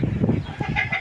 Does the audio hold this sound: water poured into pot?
no